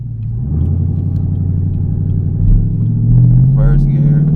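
A car's engine with a manual gearbox pulls away and accelerates in first gear, a steady close rumble that rises in pitch toward the end, heard from inside the cabin.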